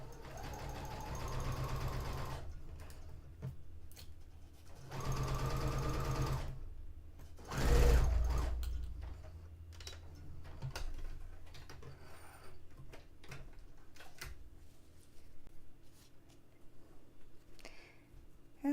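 A home sewing machine stitches a dress seam sewn from bed sheets at regular stitch length, running in two steady bursts and then a short one, with a faint mechanical clunk between runs and quiet handling sounds after.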